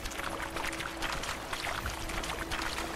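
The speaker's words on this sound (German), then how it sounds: "Wir müssen jetzt hier nämlich übers niedrige Wasser drüber gehen." A horse wades through shallow water in The Witcher 3, making a faint, continuous splashing and sloshing with no break.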